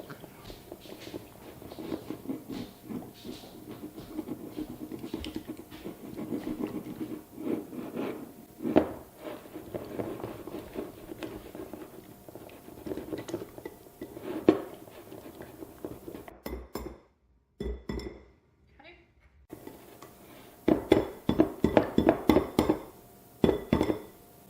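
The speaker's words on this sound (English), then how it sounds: "And then just whisk it together carefully so you don't slop it outside." Potato salad dressing is whisked in a bowl with irregular light clinks and scrapes that turn into a quicker, louder run of tapping strokes near the end, after a brief silent gap.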